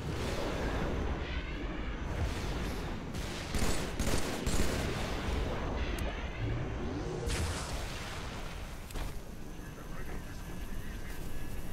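Heavy gunfire in the video game Halo 3 during a battle around a tank, with dense overlapping bursts and blasts that continue throughout, mixed with game sounds and voices.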